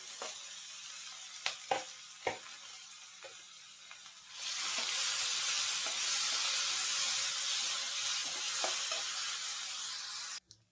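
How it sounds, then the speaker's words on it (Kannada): Onions are tipped into a hot pan with chana dal, green chillies and curry leaves while cooking bun dosa. A few clicks and taps come first, then a loud steady sizzle of frying that stops abruptly near the end. "ಕಡಲೆಬೇಳೆ ಫ್ರೈ ಆಗಿದೆ. ಈಗ ಈರುಳ್ಳಿ ಕೂಡ ಹಾಕಿಕೊಳ್ತಾ ಇದ್ದೇನೆ."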